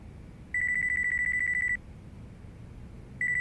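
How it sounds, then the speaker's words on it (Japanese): A mobile phone rings in Yakuza 5 Remastered, an electronic tone that sounds for over a second, stops, then starts again, clear and steady. "俺の電話だ。"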